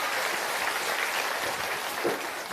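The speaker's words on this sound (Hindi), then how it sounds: "हम जोरदार तालियों से एक बार प्रशांत किशोर जी का स्वागत करेंगे, ताली बजाकर" Applause from a seated crowd at a Jan Suraaj public gathering welcoming Prashant Kishor, a steady, dense wash of clapping holding evenly for a couple of seconds with no voices over it.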